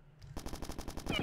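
Rapid automatic gunfire from a weapon in the video game Bad Bots, a quiet opening followed by a steady run of about a dozen sharp, evenly spaced shots with a brighter burst near the end.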